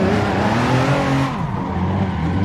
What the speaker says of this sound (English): let's go into the game and to learn to do some drifting